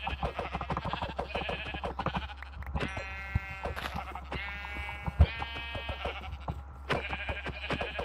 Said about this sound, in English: But, okay, sheep.